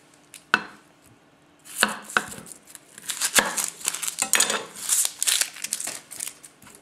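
An onion being chopped with a hand-hammered Konosuke knife: a few sparse cuts, then a rapid, rhythmic run of crisp blade strikes against the board, close and clear, with no voices.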